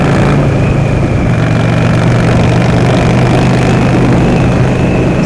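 A Yamaha V Star motorcycle idles close by, a steady, loud, even engine rumble with no voices over it.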